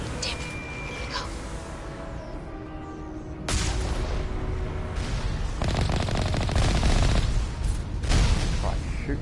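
Rapid automatic gunfire and heavy impacts from combat in the game Mass Effect rattle on loudly and almost continuously, with voices mixed in among the shots.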